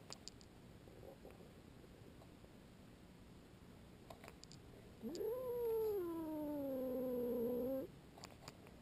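A cat gives a single long, drawn-out meow up close, bending in pitch and then sustaining before stopping abruptly, with faint clicks and a thin high tone in a quiet room.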